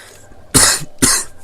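Two sharp, close coughs in quick succession, separated by a short pause, loud against a quiet background.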